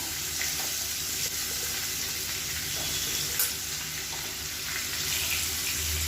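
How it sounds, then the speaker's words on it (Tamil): Paneer cubes frying in hot oil in a pan, a steady close sizzle with faint crackles and occasional stirring clinks, no talking. "இந்த பன்னீரை வந்து இந்த எண்ணெயில் சேர்த்து நல்லா ஃப்ரை பண்ணி எடுத்துக்கலாம்"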